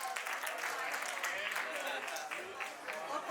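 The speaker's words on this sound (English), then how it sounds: "How about a big round of applause for this couple right here?" A round of applause for a newlywed couple at a wedding reception, steady, dense clapping from a crowd that holds throughout, with a voice faintly beneath it.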